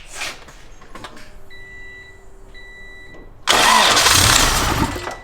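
Engine on its first start-up after injector work: quiet cranking and faint clicks with a steady tone, then the engine suddenly fires and roars loud and broadband for about a second and a half before easing slightly.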